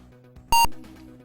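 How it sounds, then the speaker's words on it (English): A short, piercing electronic PC-speaker beep from a DOS game running in an emulator, a single loud tone lasting a fraction of a second against faint background hum. "Oh, this is going to beep."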